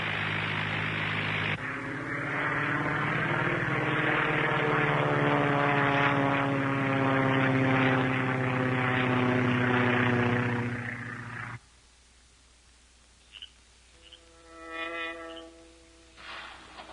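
A propeller airplane drones loudly overhead with a steady engine hum for about ten seconds, then cuts away abruptly to near quiet, followed by a brief fainter engine swell.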